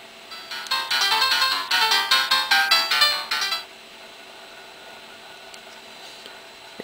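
A custom iPhone ringtone made for a first-generation or 3G iPhone plays loudly as a rapid run of bright, pulsing electronic tones for about three seconds, then stops, leaving quiet background hiss.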